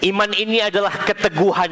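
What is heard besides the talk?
No distinct noise like a dog, phone or traffic.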